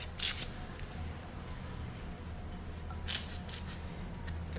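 A Borsari 1870 Acqua Classica La Colonia perfume atomizer bottle gives a few short, sputtering hisses of spray, close and quiet, with gaps of near silence between the bursts.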